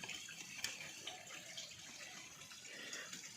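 Water overflowing from a koi pond skimmer, a soft, steady wash of trickling water heard alone at low level, with an occasional faint drip.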